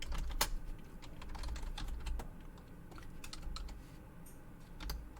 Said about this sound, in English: my keyboard sounds different. It's because I have a different keyboard.